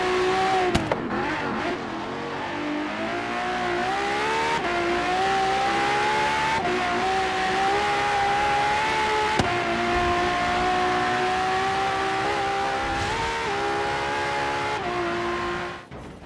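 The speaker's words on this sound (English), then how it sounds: "Overall, engine notes sound good, with some cars, like the Ferrari FTB12, sounding fantastic." Car engines rev and rise in pitch continuously in the racing game Forza Horizon 3, a steady loud engine drone with gear-change dips, alone without talk.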